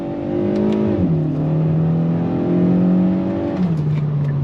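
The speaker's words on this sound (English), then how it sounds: "And now we're gonna be able to do some good on throttle here." A 2022 Kia Forte GT under full throttle, a loud close engine note climbing steadily in pitch through the gears with two distinct drops at upshifts, no talk over it.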